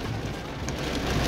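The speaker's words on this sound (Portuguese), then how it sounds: "Chuva forte, ó." Heavy rain driven by strong wind on rural land with eucalyptus trees, a dense steady hiss of downpour with gusty wind noise, close and continuous without any talking.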